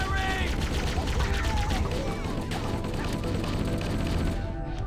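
Sustained gunfire from a vehicle gunner in a Halo game, a dense, loud, continuous stream of rapid shots and explosions with battle chatter underneath, dropping off right at the end.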